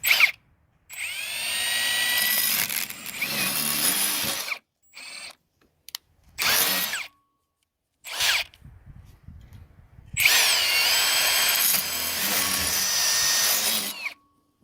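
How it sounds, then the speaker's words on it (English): A power drill whines loudly in several long bursts, biting into wood while assembling under-deck storage drawers, with short pauses and brief revs between them. "So I'm just going to drill here."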